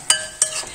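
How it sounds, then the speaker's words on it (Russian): A utensil stirs stewing meat with onion and carrot in a pot, giving two sharp metallic clinks against the pot a moment apart, close and fairly loud. "Перемешиваем."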